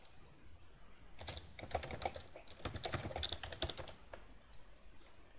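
Quick bursts of keystrokes on a computer keyboard as router commands are entered, a rapid clicking run in the middle, close and fairly quiet, with no talking.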